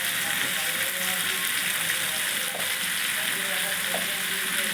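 Potatoes and tomatoes frying in oil, giving a steady, close hiss and sizzle with a few small clicks and pops.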